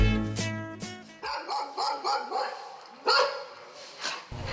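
A dog barks and yips in a quick series of short, close barks, some whimpering in between, with people talking over part of it.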